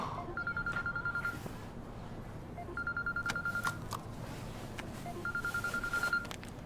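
A telephone rings in a scene from the TV series Squid Game: three evenly spaced bursts of electronic trilling, each about a second long, with quiet room ambience between them.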